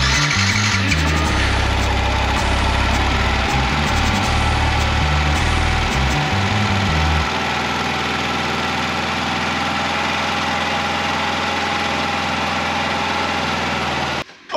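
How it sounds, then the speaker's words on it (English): A rebuilt Yamaha YZF R125 motorcycle engine runs steadily as it warms up to temperature, a close, constant idle with a few blips in the first seven seconds before settling into an even drone that cuts off at the end. "I'm just going to run the bike up to temperature and just make sure there's no coolant leaks anywhere"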